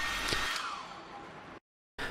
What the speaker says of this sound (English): Take a hairdryer and heat display surface for 1 or 2 minutes.